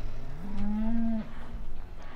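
A cow in Farming Simulator 2015 lets out a single drawn-out moo, clear and fairly close, rising then holding before cutting off, over a quiet game background.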